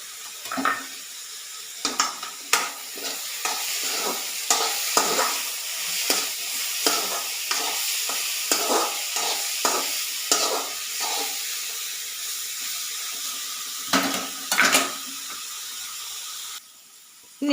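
Garlic stir-fried in a pan for a spinach thoran, a bright steady sizzle punctuated by frequent scraping and clanking strokes of a spatula, close and fairly loud, no talking.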